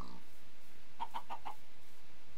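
Chickens in the video game Minecraft give a quick run of four short clucks in the middle of a steady background hiss, with no talking heard.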